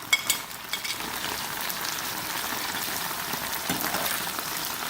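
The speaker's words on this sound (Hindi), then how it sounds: "भिंडियों को हमने मीडियम फ्लेम पर फ्राई कर लिया।" Okra and green chillies frying in a pan over medium flame, a steady close crackling sizzle with a few sharp pops near the start, no voices.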